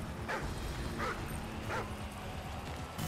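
An attacking dog in the Call of Duty Modern Warfare 3 video game, with repeated close barks and yips over dense game noise, and no talking.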